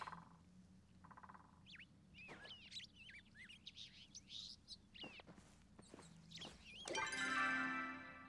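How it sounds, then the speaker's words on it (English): Background birdsong in the cozy life-sim game Palia: quiet chirps and tweets scattered across the scene, growing busier and louder toward the end. "I love the little sounds of the birds in the background."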